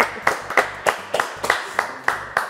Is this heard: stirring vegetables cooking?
no